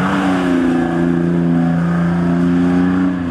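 BMW drift car spinning donuts on a wet track at a drift school, its engine holding a steady loud drone with wavering pitch as it circles close by, no talk over it.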